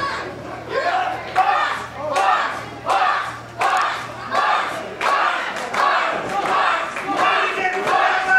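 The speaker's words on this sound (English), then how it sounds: "The crowd showing their respect for these two athletes here." Wrestling crowd at a Midwest independent show roaring and shouting in rhythmic surges for two grappling athletes, loud and sustained with repeated swells of cheering.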